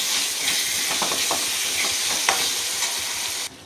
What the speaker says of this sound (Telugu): అల్లం పేస్ట్ కూడా బాగా వేగనిచ్చాలి.